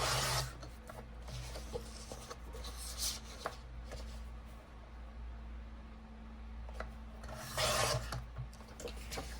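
Paper being trimmed for a handmade journal ephemera holder: soft, faint rasping and rubbing strokes in a quiet room, with a few louder scraping bursts between quieter stretches.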